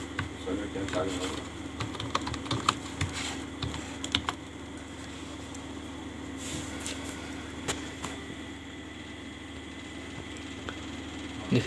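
Fingers tap a computer keyboard in irregular bursts of light, close clicks over a faint steady electrical hum, during the setup of a Samsung 24-inch curved monitor.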